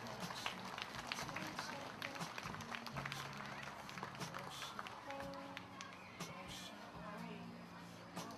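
Audience applause at a lantern festival with children's performances in Kuala Selangor, steady clapping from a crowd across the whole stretch with some noisy chatter mixed in.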